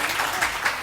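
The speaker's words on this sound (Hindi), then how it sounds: "आपने अगर तालियां बजानी है तो बजा के जरा दिखाइए" A studio audience on a live morning television show breaks into a brief burst of applause, a dense wash of clapping that lasts under a second.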